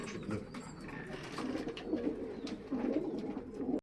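Flight pigeons in a coop housing about four hundred birds, with soft overlapping low coos repeating throughout, fairly close and steady over faint background noise.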